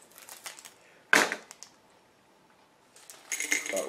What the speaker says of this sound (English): I'm going to use the big scissors.